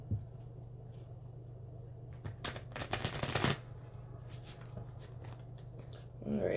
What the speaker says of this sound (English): That was a crap shuffle. Try that again.